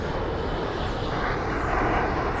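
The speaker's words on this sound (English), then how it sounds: "One more plane." An airplane passes overhead above a residential street in College Point, Queens, giving a steady broad jet roar that holds loud and even throughout with no voices.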